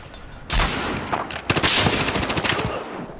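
Automatic gunfire in the multiplayer shooter Battlefield Hardline, loud close bursts of rapid shots that come in two waves, the second one longer and more ragged.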